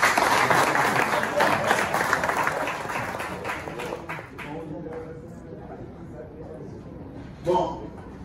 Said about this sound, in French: On applaudit sur la sens.